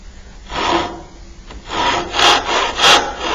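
A hand saw cutting into wood to form a trench for a pot stand, four close, loud rasping strokes with short pauses between them, no voices.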